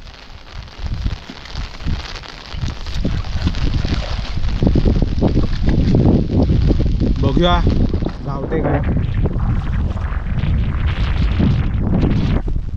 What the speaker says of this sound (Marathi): वारा खूप आहे बघा, पाऊस देखील खूप आहे